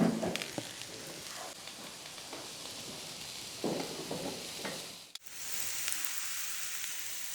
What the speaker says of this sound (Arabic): عندي هون فطر مسحته ومقطعته، بدي حمصه شوي بالزبدة